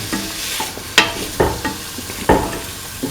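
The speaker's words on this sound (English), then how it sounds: "Mixing the tofu with the rest of the mixture." Tofu being stirred into a potato and coconut milk stew, with repeated scraping and clacking spoon strokes against the pot over a soft simmering sizzle, close and fairly loud.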